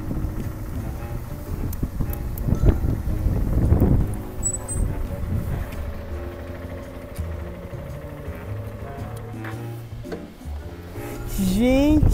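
Steady wind rushing and buffeting across the microphone while riding a motorcycle through a small open field, a continuous low roar with someone talking over it.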